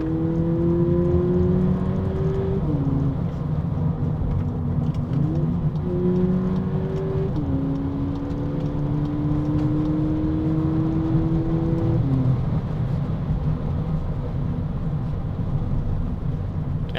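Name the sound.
2024 VW Polo GTI accelerating, exhaust note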